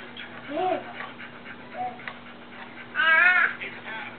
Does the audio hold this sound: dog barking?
yes